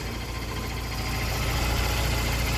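A fully rebuilt engine with a cast-iron block and cast-iron intake idles in a steady, low, even rumble that stays close and constant throughout, with no one speaking.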